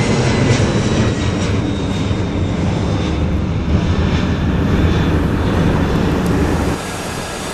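A Continental jet airliner at Atlanta airport roars loudly and steadily with broad engine rumble and a faint high whine, close and continuous, easing slightly near the end.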